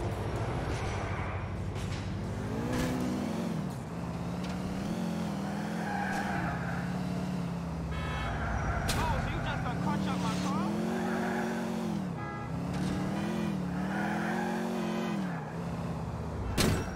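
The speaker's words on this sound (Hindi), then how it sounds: "यहाँ से मैंने गाड़ी मोड़ी और ये बड़ी मुश्किल से मैं गाड़ी भगा रहा हूँ दोस्तों" A car revs and slides through turns in GTA 4, engine whining and dipping with repeated tire skids, steady and loud throughout while someone talks over it.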